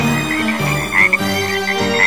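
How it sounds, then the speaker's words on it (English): Frogs croak loudly and continuously in a dense chorus, with overlapping rhythmic calls close by. "It started raining frogs once."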